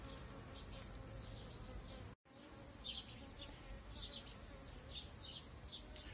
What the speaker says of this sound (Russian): Что-то пчелки немножко агрессивные, немножко атакуют меня.